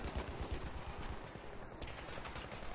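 Rapid bursts of Madsen MG machine gun fire in Battlefield 5 multiplayer on Operation Underground, loud and close, with dense repeated shots rattling continuously throughout.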